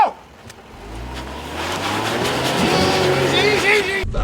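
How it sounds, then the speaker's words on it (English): A 2017 Land Rover Discovery accelerates hard on an off-road course, its engine note climbing steadily from a low rumble to a loud, straining roar heard from inside the cabin, with people talking over it. "You're going to accelerate hard."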